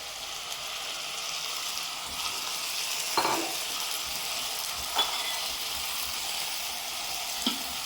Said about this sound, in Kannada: ಹಸಿ ಶುಂಠಿ ಹಾಕಿದ ನಂತರ ನಾನು 1 ಕಪ್ ಅಕ್ಕಿ ತೊಳೆದಿಟ್ಕೊಂಡಿದ್ದೀನಲ್ಲ ಅದನ್ನು ಹಾಕ್ಕೊಳ್ತಾ ಇದ್ದೀನಿ.